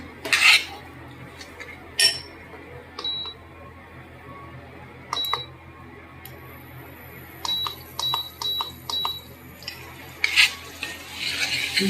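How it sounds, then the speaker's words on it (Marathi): Green masala paste being sautéed in oil in a pan for a Bombay duck curry gives a soft low sizzle, punctuated by sharp metallic taps and clinks of a spoon against the pan. "हिरवं वाटण, आणि ते चांगलं परतून घेऊया"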